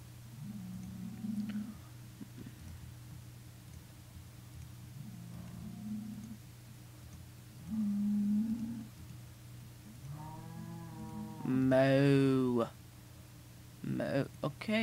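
A cow lows several times in Minecraft, short mooing calls repeating at intervals, with a louder, more drawn-out moo near the end; a quiet steady hum sits under it, with no one talking over the calls.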